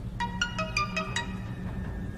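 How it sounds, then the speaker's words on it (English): A mobile phone ringtone, a rapid series of bright electronic chime notes in a quick rising and falling pattern over a low background hum, with a final note at the end. "Apologies, my phone appears to be going mad."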